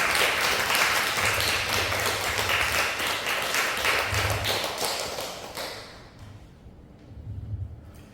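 A church congregation gathered for a staff worship service with a singer's testimony claps in welcome, a steady dense applause for about six seconds before it thins to scattered claps and soft thumps.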